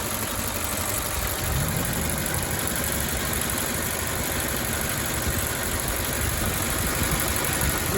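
An Audi Q7 4.2 FSI V8 petrol engine idles steadily up close, a continuous even hum and mechanical rattle with no speech and no change in revs.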